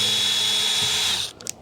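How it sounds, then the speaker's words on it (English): A cordless drill fitted with a No. 2 Phillips bit whirs steadily for just over a second while backing a screw out of an Igloo cooler latch, then stops, followed by a couple of small clicks. "you can use a drill with a number 2 Phillips bit"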